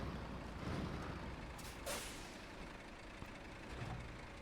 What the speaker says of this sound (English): Put the handbrake on